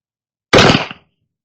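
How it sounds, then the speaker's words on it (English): A single loud, close gunshot from a Colt Pocket Police or Pocket Navy percussion revolver, a sharp broadband crack with a brief ringing tail, standing alone against silence. "Now we'll shoot a little below the belt buckle."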